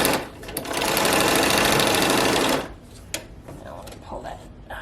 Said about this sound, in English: Put your sewing machine on the longest possible stitch.